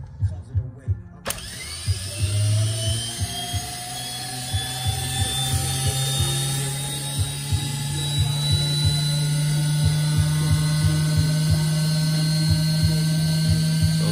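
A Prestolite lowrider hydraulic pump motor spins up on a test bench with a rising electric whine. It settles into a steady hum over a rapid rhythmic clicking and ticking, loud and close.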